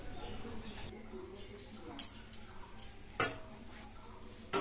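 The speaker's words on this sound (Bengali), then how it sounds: "মা এখানে কাঁচা লঙ্কাগুলো এখানটা খুন্তিতে কেটে দিচ্ছে।" A metal spatula chops green chillies in a cooking pan, sending a few sharp, faint scraping clicks against the pan spaced apart amid soft background noise, with someone speaking.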